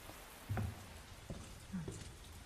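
Rain in the video game Resident Evil 2 Remake: a faint, steady patter and hiss of rainfall, with a few soft low thumps rising briefly above it.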